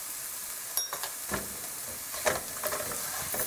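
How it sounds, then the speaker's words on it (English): A spoon scrapes and stirs through food cooking in a pot seasoned with cayenne pepper and thyme; quiet, close scrapes and knocks come irregularly over a faint sizzle, with no talking. "You add and stir as you go."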